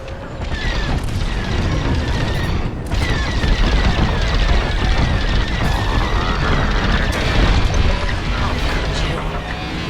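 A ship blowing up during a Star Wars Squadrons space battle, heavy booming blasts and crackling debris layered over laser fire and engine roar, loud and dense, with radio voices in the mix.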